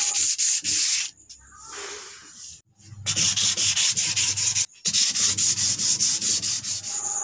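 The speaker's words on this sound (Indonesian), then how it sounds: "amplas bisa ditataki menggunakan spons ataupun bisa melakukan pengamplasan dengan mesin." Sandpaper rubs back and forth across a coconut-wood bird cage in quick, steady strokes, close and scratchy, with a few brief pauses between bursts of sanding.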